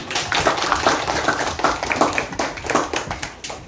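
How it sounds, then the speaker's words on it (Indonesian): A classroom of students claps together to close the lesson, a close, somewhat uneven patter of hands with rhythmic pulses that trails off. "mari kita memberi aplaus untuk semuanya"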